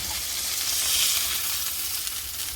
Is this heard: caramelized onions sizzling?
yes